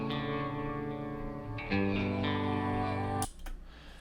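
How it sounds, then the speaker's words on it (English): Repeating guitar riff from a symphonic metal song, sustained melodic lines heavy with echo and reverb, a full band mix at moderate level that cuts off abruptly near the end. "I like the repeating guitar riff"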